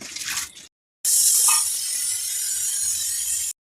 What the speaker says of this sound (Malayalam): അരി ഒരു 3-4 പ്രാവശ്യം നല്ല വൃത്തിയായി കഴുകി 1 മണിക്കൂറെങ്കിലും കുടിയാൻ വയ്ക്കാം.